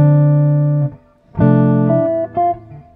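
A clean guitar plays two measures of a piece: sustained chords ring, a short gap follows, then a fresh strum and a few single picked notes, all close and clear.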